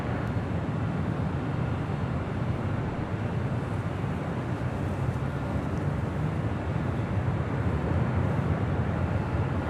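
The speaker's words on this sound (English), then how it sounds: "that was FedEx Flight 3725 coming in from Indianapolis, Indiana, 767-300 freighter" Steady broadband roar of a FedEx Boeing 767-300 freighter landing at LAX, a loud, continuous, rumbling engine and airflow noise holding level throughout with no voices.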